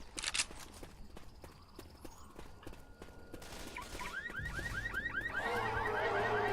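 A car alarm in the Left 4 Dead 2 video game starts wailing, a repeated rising electronic siren whoop that grows steadily louder over a background of gunfire and game noise.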